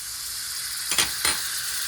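Butter sizzles in a hot pan before pork goes in, a steady bright crackling hiss broken by two short louder bursts of spitting near the middle.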